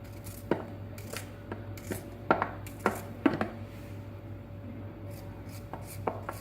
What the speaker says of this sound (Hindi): सबसे पहले आड़ू काटेंगे